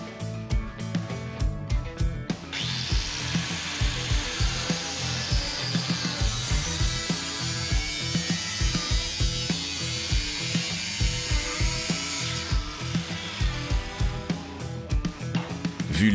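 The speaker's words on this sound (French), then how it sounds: "Comme il a été soudé, je vais simplement le tronçonner à la meule." An angle grinder cuts through an old welded car exhaust pipe, a sustained harsh hiss lasting about ten seconds, framed by clanking and ratcheting mechanical knocks before and after.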